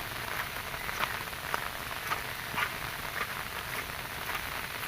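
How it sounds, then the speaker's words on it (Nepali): Light drizzle falls outdoors, making a soft, steady patter with scattered individual drops landing on surfaces nearby, faint and unbroken, with no voices. "सिमसिम पानी परिरहेको छ अहिले बाहिर"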